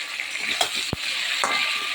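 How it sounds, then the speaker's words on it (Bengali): Potatoes and pointed gourd frying in oil, with a close, continuous sizzle and a few stirring scrapes and taps against the pan. "দেখো বন্ধুরা আলু পটল ভাজা হয়ে গেছে"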